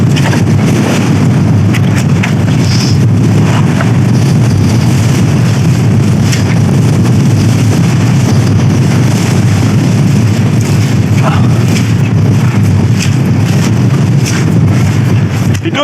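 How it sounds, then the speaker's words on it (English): Strong wind roars across an exposed hilltop summit in rain, a loud continuous buffeting rumble hitting the microphone without letup. "Let's see how windy it is"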